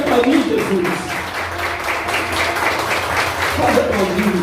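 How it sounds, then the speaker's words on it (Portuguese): A church congregation applauds in a steady wash of claps, with voices calling out and a speaker's voice rising over the clapping. "Pode aplaudir, Jesus."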